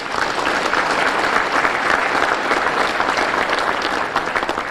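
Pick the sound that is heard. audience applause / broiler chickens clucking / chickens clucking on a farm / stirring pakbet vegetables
audience applause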